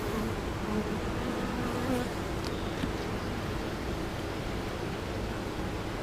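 Honeybees in an open hive during an inspection of honey supers and brood hum in a dense, steady buzz close by, with no other sounds.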